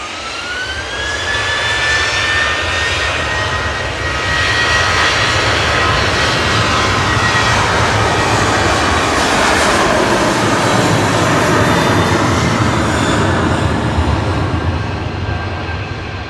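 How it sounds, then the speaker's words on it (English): A TUI Airways UK Boeing 737-800 at Manchester Airport rumbles with a loud, sustained jet-engine roar and a rising whine, steady and close for the whole stretch, with no voices. "GTAWZ 737-800 for TUI Airways UK with flight 474."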